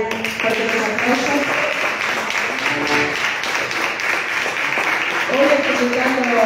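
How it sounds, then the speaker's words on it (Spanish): A crowd applauds at a folk music peña in Posadas, Misiones: steady, dense clapping for about six seconds that swells near the end, with voices and some music mixed underneath. "Fuerte aplauso."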